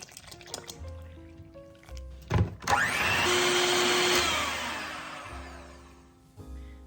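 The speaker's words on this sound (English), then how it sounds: "Pouring it in with my milk." Lemon pudding mix and milk are poured into a bowl, a short liquid gush followed by a sustained pouring and filling hiss, set between quieter kitchen handling sounds.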